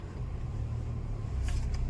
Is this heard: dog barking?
no